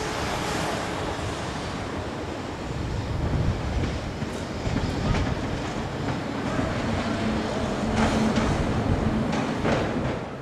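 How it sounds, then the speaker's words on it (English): SNCB electric locomotive number 1206 pulls a train in from Antwerpen Noord yard, a broad continuous rumble of wheels and rolling stock that swells slightly as it nears, with faint rhythmic rail clatter throughout. "SNCB number 1206 is seen arriving on a train from Antwerpen Noord yard."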